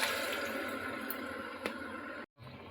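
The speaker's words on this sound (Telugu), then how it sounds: "ఇప్పుడు ఇందులో వాటర్ని యాడ్ చేద్దాము." Water is poured into a pan of cooked-down masala for a catering-style drumstick curry, a continuous soft splashing and sizzle that runs steadily, then cuts out abruptly before resuming faintly.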